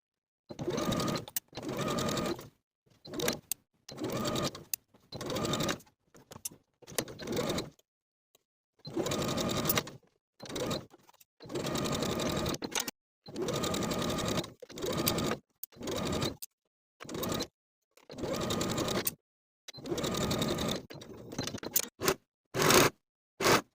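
Sewing machine stitching the back sleeve sections of a shirred dress to the bodice with a 3/8 inch seam, running in repeated short bursts separated by brief pauses, close and steady with no talking.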